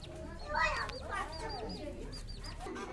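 Young Serama chickens on a farm give several short, high clucks and chirps in quick succession, fairly close and soft, over a low background murmur.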